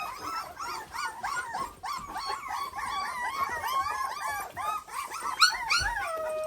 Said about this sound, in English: Show y'all the puppies.